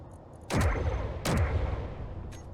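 Turrets fire in the space game Space Engineers, two heavy booming shots about 0.7 seconds apart, each with a deep rumbling tail, and a faint ambient hum between them.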